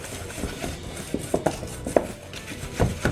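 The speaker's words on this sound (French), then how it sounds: "il faut battre le beurre jusqu'à ce que ça en fasse une crème" Butter being beaten into a cream with utensils in a bowl, giving irregular clinks and scrapes of metal against the bowl, moderately close and fairly quiet, with no talking.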